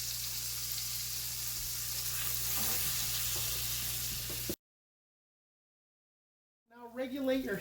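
Pheasant meat fries in a pan with a steady broadband sizzle that runs loud and constant, then cuts to silence before a voice starts talking near the end.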